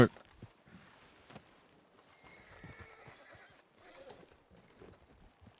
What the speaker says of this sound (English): Oh, my horse is already following.